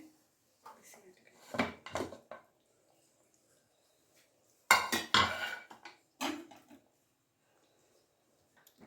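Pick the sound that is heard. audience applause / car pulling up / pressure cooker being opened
pressure cooker being opened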